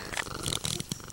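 A kitten purrs loudly and close, a steady rumbling purr with a brief meow-like accent partway through, indoors with no talking.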